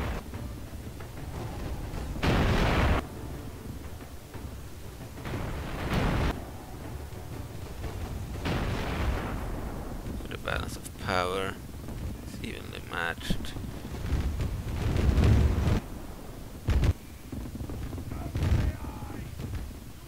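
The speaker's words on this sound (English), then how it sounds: "Artillery over here, Type 96 artillery." Type 96 artillery pieces firing in a desert battle in the video game Total War 1942, heavy booms repeating every few seconds amid rumbling battle noise, with someone talking over them.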